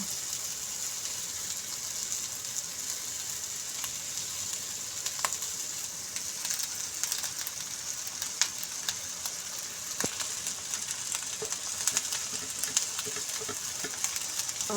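Rice with ground garam masala sizzles steadily in a hot pan while being stirred, a continuous close frying hiss broken by faint scraping clicks, with no talk.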